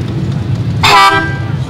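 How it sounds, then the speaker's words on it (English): Air horns fitted to a motorcycle at a Long Island motorcycle fair give a single loud, brassy blast lasting about a quarter second, cutting through the crowd noise. "nice air horns there"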